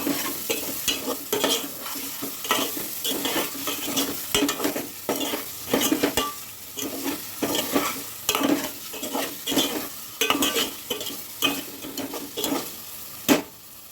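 Egg curry masala seasoned with salt and a pinch of turmeric is stirred in a pan, a spoon scraping in irregular strokes with clinks against the metal over a soft, continuous sizzle.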